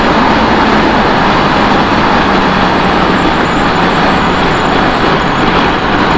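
A 2024 Honda CB1000R Black Edition, a litre bike, accelerates on the motorway, its engine buried in loud, steady wind roar that stays constant from start to finish.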